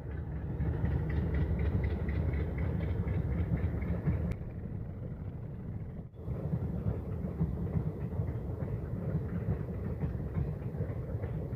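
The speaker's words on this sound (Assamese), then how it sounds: "7:30 এখন ট্ৰেইন আহি আছে" A train passing at 7:30 in the morning beside open fields in rural Assam, heard as a steady low rumble with faint rhythmic clatter that runs throughout, briefly dipping midway.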